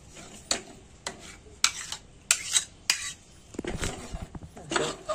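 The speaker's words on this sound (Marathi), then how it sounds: "सगळा खवा दुधाच्या मिश्रणात टाकून घ्यायचा, एकदम असं मिक्स करून घ्यायचा आहे" Khoa being mixed into a milk mixture in a pot for basundi, with a series of sharp metallic spoon clinks and scrapes against the pot at an irregular rhythm, close and fairly loud, no voices.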